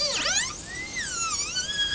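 A dental handpiece whines at high pitch while shaping a rounded-shoulder zirconia crown prep on tooth #30 of a typodont, its tone dipping and rising as the bur loads against the surface, steady and close with no talk.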